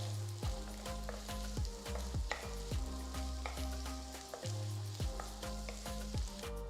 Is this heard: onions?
yes